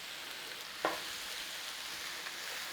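Chopped beef frying in a pan, a steady soft sizzle throughout with one brief clink of a stir or utensil near the start.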